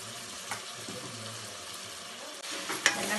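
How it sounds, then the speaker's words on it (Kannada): Masala paste frying in oil in a pan for mutton biryani, a steady broadband sizzle with faint stirring scrapes and a brief louder clatter near the end. "ಸ್ವಲ್ಪ ಎಣ್ಣೆ ಬಿಟ್ಕೊಳ್ಳೋವರೆಗೂ ಚೆನ್ನಾಗಿ ಫ್ರೈ ಆಗಲಿ"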